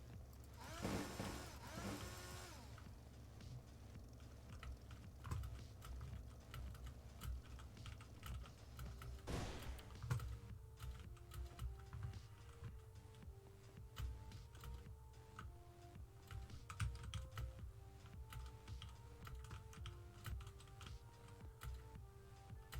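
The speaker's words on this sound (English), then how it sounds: "how loud is my keyboard? Is it obnoxiously loud?" Computer keyboard typing runs as a continuous patter of light key clicks through a gaming session, moderately quiet beneath a steady low hum and faint game sounds, with no one speaking.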